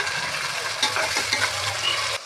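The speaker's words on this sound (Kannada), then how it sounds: "ನೋಡಿ, ಸೊಪ್ಪು ಫ್ರೈ ಆಗ್ತಾ ಇದೆ." Fenugreek leaves, onion and pigeon peas frying in oil give a steady, close sizzle with soft stirring scrapes throughout, cutting off just before the end.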